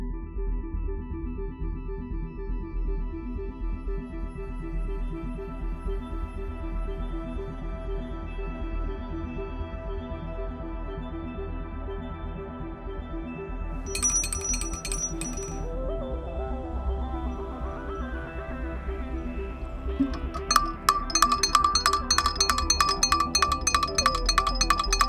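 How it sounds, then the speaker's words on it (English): Bright metallic bell strikes ring out with long shimmering decay over a low, rumbling underwater background, first a short burst, then repeated rapid clanging. "can we get the bell rung"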